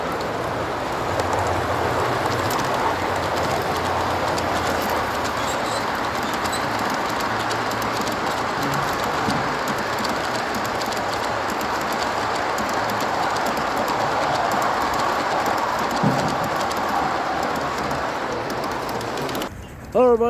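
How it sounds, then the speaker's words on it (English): A G-scale model train on a garden railway rumbles along steadily with a soft rolling clatter, close by, continuous for the whole stretch with faint background murmur. "Here's another train."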